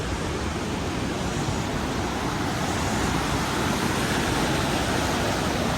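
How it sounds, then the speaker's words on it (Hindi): The Dulai waterfall in Kashmir rushes in a constant, broad roar of falling water, loud and unbroken throughout with no voices. "यहाँ से पानी आ रहा है"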